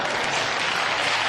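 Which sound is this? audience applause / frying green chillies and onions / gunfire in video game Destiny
audience applause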